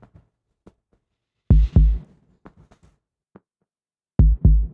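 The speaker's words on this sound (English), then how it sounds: "layered in there is like a thumping kick, just like a heartbeat kind of sound" A deep, thumping kick drum is layered into a music track like a heartbeat. Its paired, heavy low thuds are heard twice, with soft, sparse clicks and taps between them.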